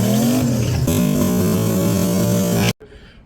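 A light-rear truck on 34 psi of boost at a 14.5 air-fuel ratio spins its rear tires on launch: a loud, rising engine roar with spinning tires for under three seconds, cut off abruptly and followed by quieter residual noise.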